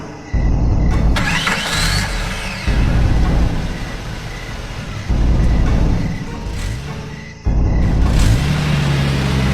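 A cartoon car engine starts and pulls away, running in loud bursts that cut off and restart several times, with revving surges and a low steady rumble throughout.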